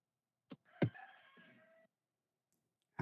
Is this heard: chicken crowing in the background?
yes